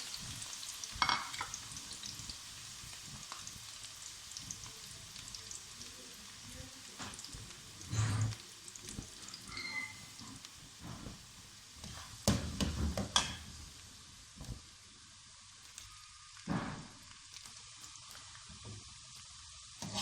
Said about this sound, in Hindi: अब इसको फ्राई कर लेंगे।